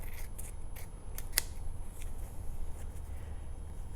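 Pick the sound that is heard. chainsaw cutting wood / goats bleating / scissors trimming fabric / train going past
scissors trimming fabric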